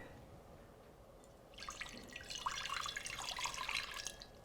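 Water poured into a hot pan to start a syrup for poaching fruit, a faint splashing, sizzling trickle that swells after a quiet start and carries on unevenly to the end, close by with no talking.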